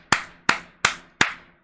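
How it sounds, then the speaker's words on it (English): Four sharp, evenly spaced claps from a single pair of hands, close and crisp, each with a brief decay, for Fishing Garrett in a Florida setting; no voices. "let's give him a round of applause"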